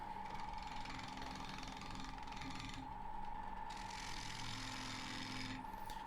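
An oak bowl spins at 1400 RPM on a wood lathe while a 40-40 bowl gouge cuts it, making a steady close whirring, scraping drone with a constant mechanical hum throughout.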